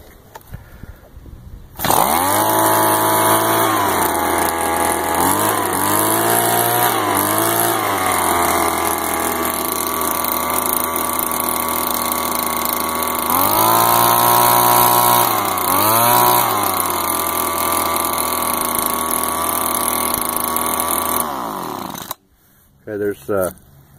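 A Stihl BG 72 two-stroke leaf blower fires up after a moment of quiet, then roars loud and close with the engine revving up and down several times before cutting off abruptly near the end.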